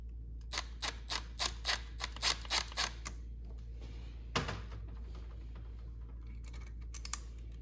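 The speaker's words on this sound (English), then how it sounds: "I'm gonna put this rod back in." A metal rod is threaded back into a DRZ400SM motorcycle's kickstart mechanism, heard as a quick run of close, sharp ratcheting clicks, then a single knock and softer fiddling sounds.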